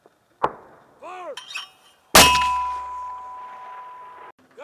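Weapons fire during a U.S. Marine platoon attack in a heavy blizzard: a sharp crack, then a second loud metallic blast that rings and decays over two seconds, with brief shouting between.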